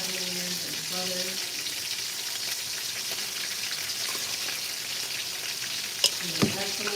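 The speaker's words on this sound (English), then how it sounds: "I'm just going to put water in it and to rinse out any of the flavors that I have in there, like butter" Water poured into a hot frying pan used for cooking fish stew, with butter and aromatics already in it, gives a steady, close hissing sizzle throughout, with a brief clatter near the end.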